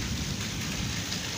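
Heavy monsoon rain pours down in Azad Kashmir, a dense, loud, steady hiss of falling water close by with a low rumble beneath and no voices.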